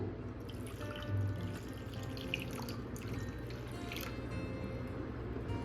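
Water trickles and splashes into a pan of raw mango for sharbat for several seconds, a soft continuous pouring sound with faint drips, fairly quiet.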